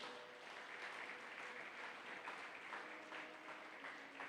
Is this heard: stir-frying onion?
no